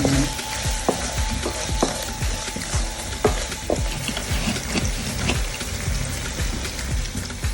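Sardine masala with curry leaves frying in a pan, a dense continuous sizzle broken by frequent crackles and pops, close and fairly loud.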